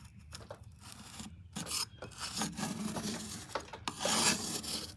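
Old gunk from a 300,000-mile Cummins diesel in a 1959 Dodge Coronet 4x4 is scraped off engine parts over a pan. The rasping, scratching strokes come in irregular bursts, close and fairly quiet, with short pauses between them.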